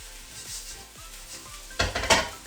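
Pineapple fried rice is stirred in a pan with quiet, soft scraping, then a few louder metallic clinks and scrapes of the utensil near the end.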